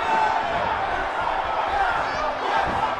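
Roaring arena crowd in the wrestling game WWE 2K18, a dense steady wash of cheering with no pause, loud and constant across the whole moment.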